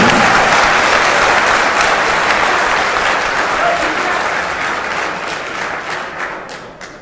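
A crowd applauds a speaker's elder sister at a public gathering, dense and loud clapping that starts full and slowly fades toward the end, with a few thumps mixed in.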